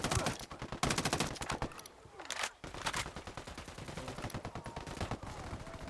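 Rapid bursts of automatic gunfire in a video game, clustered volleys of sharp shots with a short lull in the middle before firing resumes in quick repeated cracks.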